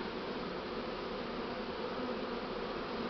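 A swarm of Buckfast bees entering a hive makes a steady, dense buzzing hum at low level, continuous and unbroken for the whole stretch with no other sounds.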